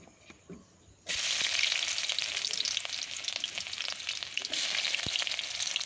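Oil goes into a wok for a village-style silver carp dish, setting off a loud, steady sizzle that starts abruptly after about a second of quiet and crackles on continuously.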